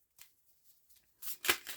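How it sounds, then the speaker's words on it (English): Tarot cards shuffled by hand during a reading, a few soft faint riffles first, then a louder burst of brisk papery shuffling toward the end, with no talking. "I'm going to keep shuffling."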